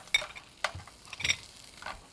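Dried scallops frying in a pan with mullet roe, stirred now and then, giving soft, intermittent bursts of sizzling and scraping against a quiet background.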